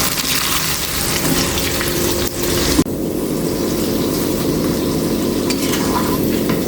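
Ivy gourd (kovakka) fries in hot oil with a loud, continuous crackling sizzle, broken by a short stirring scrape, with no voices.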